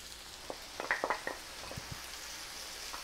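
Tomatoes are tipped into a skillet of browned ground meat, and a soft sizzle follows with a few splashy plops and crackles as they land, then a low hiss continues.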